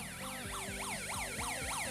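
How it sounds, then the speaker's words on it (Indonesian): An electronic siren module's standby tone warbles in quick, repeating up-and-down sweeps, steady and fairly close, with no other sounds around it. "terfungsi ya suara sirine standby untuk saklar sirine standby"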